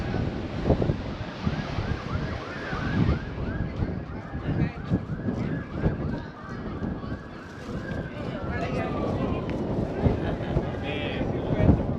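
Strong wind buffets the microphone in loud, continuous gusts at the fort in Old San Juan while someone talks underneath, partly drowned out.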